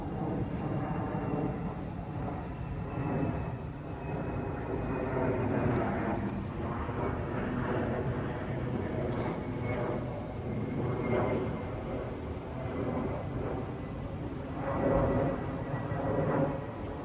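An airplane passing overhead, a steady broad rumble of engine noise that swells slightly and lingers throughout, heard outdoors with no talking.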